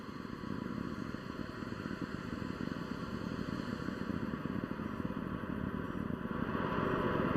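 An Atlas V rocket's RD-180 engine thunders during the Perseverance rover launch, a continuous distant crackling roar that holds steady and builds slightly, heard alone with no talk.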